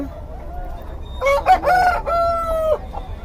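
A rooster crows loudly and close among country chickens at the Nallapadu country chicken market, one long drawn-out call with clucking hens around it and faint market background.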